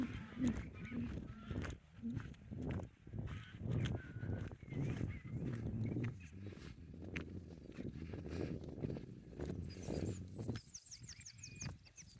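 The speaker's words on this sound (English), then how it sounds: "We get tons of geese around here." A flock of geese honks in a steady, overlapping chorus, loud and nearby, continuing throughout.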